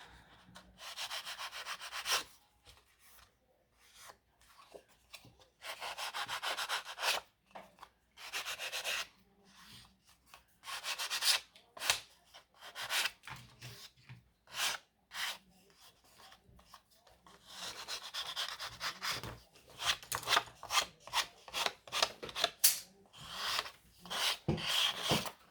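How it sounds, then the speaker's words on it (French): Nail file rasping off cut edges, close and fairly quiet, in short scratchy strokes that come in bursts with brief pauses between them. "je prends ma lime à ongles et je viens les enlever"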